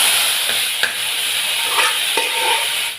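Banana flower kootu stirred into a sizzling tempering of curry leaves in a pan, a steady close hiss of frying with a few soft scrapes of the spoon, no talking.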